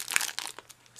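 Gorgioso envelopes by Heidi Swap being pulled from crinkly plastic packaging, with a burst of close, loud crumpling and rustling that fades to scattered soft crinkles before a final swell of rustle.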